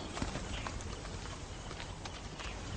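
Horse hooves clip-clop in a steady, close stream of dull knocks on the ground, with no voices over them.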